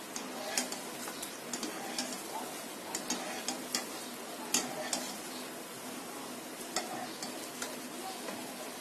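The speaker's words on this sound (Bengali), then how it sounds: "এরকম কালার করে ভেজে নিতে হবে।" Banana bonda sizzles in hot oil at a soft, steady hiss, with light clicks of a stirring utensil against the pan.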